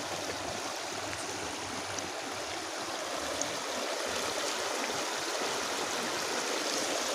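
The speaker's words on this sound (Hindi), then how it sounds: "देखा भाई देखा बहुत पानी बहता" Floodwater pours across a flooded farm field after heavy rain, a steady, dense rushing wash that holds constant throughout with no voices.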